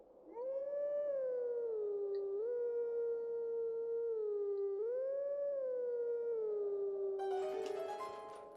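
A wolf howl from the Howling Stone in the video game The Legend of Zelda: Twilight Princess, one long sustained tonal howl that bends and wavers in pitch, loud and close, with a brief burst of musical chime near the end.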